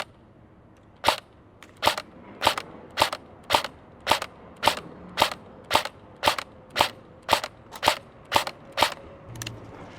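A Dytac Sharps Bros MB47 airsoft AK electric rifle fires plastic BBs outdoors in about fourteen sharp, evenly spaced single shots, crisp and fairly close, with quiet pauses between them.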